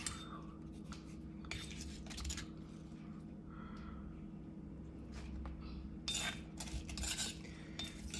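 Two spoons clink and scrape while mixing a spicy string bean salad in a heavy mortar, producing irregular bursts of soft metallic tapping over a steady low background hum.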